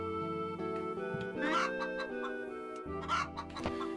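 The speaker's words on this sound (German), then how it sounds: "Hey, da sind auch Hühner." Chickens clucking in the PS1 video game Wild Arms, two bursts of tinny synthesized clucks over steady looping game music, fairly close and clear.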